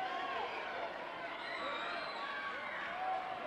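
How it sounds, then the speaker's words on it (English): Faint, distant crowd noise at a 1979 Stampede wrestling event, a steady wash of yelling and murmur with a few rising voices, low and continuous throughout. "Crowd yelling for the sleeper"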